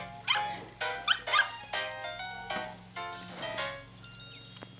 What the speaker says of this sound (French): donc il y a un chien